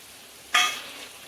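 Mutton with yogurt is stirred in a pan, giving one short scraping sizzle followed by a fading hiss.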